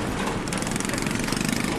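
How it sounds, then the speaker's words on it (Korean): A motorcycle rides through Kim Bong Village in Hoi An, Vietnam, with a steady engine drone blended into loud, rushing wind noise throughout and no talking. "여기는 이제 차와 갈 수 없는 곳이라 오토바이를 타고 제가 지금 가고 있는데"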